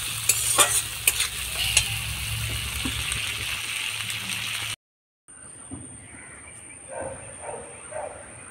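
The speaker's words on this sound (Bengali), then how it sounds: "পেঁয়াজ টমেটো ভাজা হয়ে গিয়েছে" Onion and tomato fry in a pan for a pabda fish dish with a steady, close sizzle and stirring, then cut abruptly to silence and a much quieter background with a thin steady whine.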